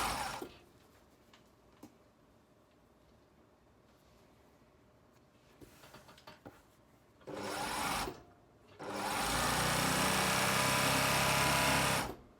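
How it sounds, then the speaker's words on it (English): Sewing machine stitching the long seam of a trouser leg with a gathered insert: quiet handling and faint clicks at first, then two loud sustained whirring runs of stitching, a short one and a longer steady one near the end. "I'm going to sew back down the other long edge."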